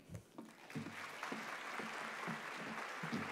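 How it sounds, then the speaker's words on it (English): Audience applause at a poetry recitation semifinal, a crowd clapping steadily with a dense, even patter that swells slightly, heard from within the room at moderate-low level. "Keep that clapping going."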